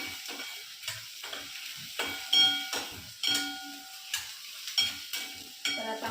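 Soybean curry seasoned with mutton masala, stirred in a pan: a repeated scraping of the spoon with short bursts of sizzle, close and fairly loud, at irregular intervals.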